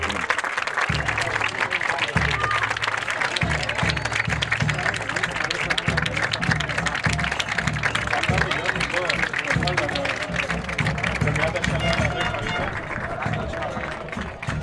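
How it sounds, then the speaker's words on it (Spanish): Football crowd at a Verense league final applauding as a player leaves the pitch near the end of the match: broad, sustained clapping and crowd noise in an open ground, with a commentator talking over it throughout. "Se retira Pablo Pérez, muy aplaudido."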